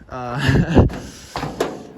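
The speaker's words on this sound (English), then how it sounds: "And then the door opens and shuts" Door of a restored 1936 GMC truck with an LS engine swap, opened and then shut, giving a mechanical clunk and a later latch thump, heard close under a man's ongoing speech.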